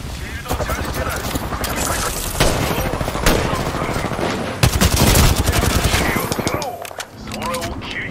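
Rapid automatic gunfire in Apex Legends, dense bursts and sharp cracks firing almost continuously at close range, with in-game voice lines mixed in.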